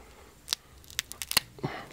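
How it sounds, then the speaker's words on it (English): A knife cuts through the leg joints of a butchered Nigerian Dwarf goat, giving sharp crisp snaps and crunches in short irregular bursts, close and fairly loud against a quiet background. "You want to cut these feet off."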